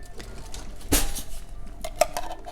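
A clean spoon is picked out from among dishes while making a Christmas pie, one sharp clatter of cutlery against crockery followed by a lighter clink, over quiet room noise.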